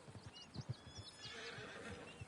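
A horse in Red Dead Redemption 2 whinnies in a short rising neigh, with soft clip-clop hoofbeats underneath, fairly quiet and with no talk.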